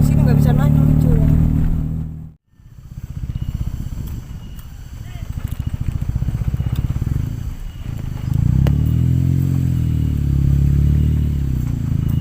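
A motorcycle engine runs close by and loud, a steady low drone that cuts out briefly and comes back rougher, on a rough road toward the Karembi Wetan forest, with people talking over it.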